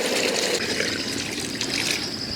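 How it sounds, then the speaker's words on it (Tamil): Water poured into spicy fried chicken gravy cooking in an outdoor village kitchen, a steady close trickling and splashing stream running continuously without talk. "கொஞ்சமா தண்ணி சேர்த்துக்கலாம்."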